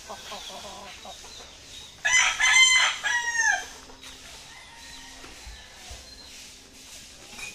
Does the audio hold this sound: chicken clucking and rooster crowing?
yes